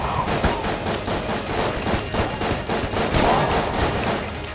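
Rapid gunfire from the starter pistol in the video game Enter the Gungeon, a dense, continuous stream of quick shots sounding loud and close throughout, with faint thuds mixed in.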